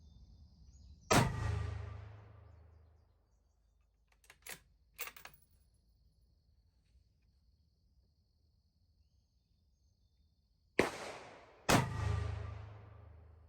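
Rifle shots at 100-yard targets with Fiocchi ammunition from an Axis II rifle on a bipod: sharp, loud cracks with decaying tails, one near the start, a few faint pops mid-way, then two close shots near the end.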